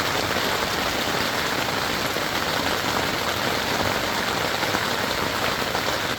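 Rain falling steadily at a campsite beside a clear Ozark stream, a dense constant patter with no breaks and no voices.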